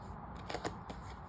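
Tarot cards are shuffled close by in a brief riffle, with a few quick soft papery slaps over a quiet background.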